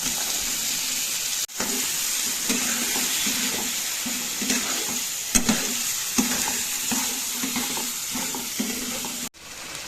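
Spice paste with green peas and tomato frying in a pan while being stirred, a continuous sizzle broken by repeated scraping strokes of the spoon, with a couple of brief pauses.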